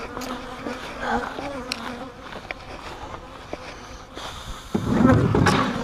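Honeybees buzz steadily around an opened hive during an inspection, a close, sustained droning hum that swells louder near the end.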